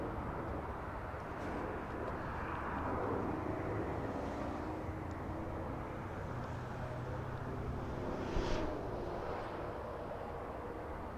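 A Southwest airliner at Los Angeles International Airport produces a broad, steady jet roar that holds at a distant, moderate level and swells slightly near the end.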